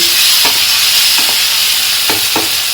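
Tomato masala for a dhaba-style chicken gravy fries in a pan with a constant loud sizzle, and a spatula scrapes through it in a few quick strokes.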